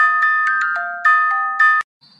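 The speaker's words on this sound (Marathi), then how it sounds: "माये मरो माउस भाई को फोन आयो" A mobile phone ringtone for an incoming call plays several bright melodic beeping notes, loud and close, then cuts off abruptly and leaves a brief faint sound after it.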